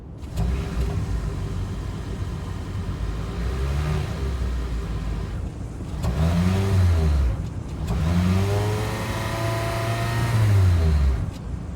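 A 2023 Hyundai Elantra Hybrid's 1.6-liter hybrid engine idles steadily, then revs up several times in rising and falling swells, loud and close with no voices.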